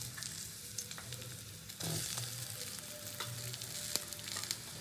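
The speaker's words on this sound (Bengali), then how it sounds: "তো প্রথমে পেঁয়াজ কুচিটা দিয়ে দেবো তেলের মধ্যে।" Chopped onion frying in hot oil for a Bengali fish bhorta, a steady soft sizzle with occasional louder crackles and a brief burst as the pieces settle, no talking.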